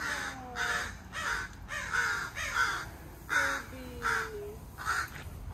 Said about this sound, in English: It's a baby crow that fall from the nest.